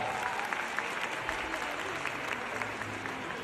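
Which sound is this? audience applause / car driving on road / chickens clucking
audience applause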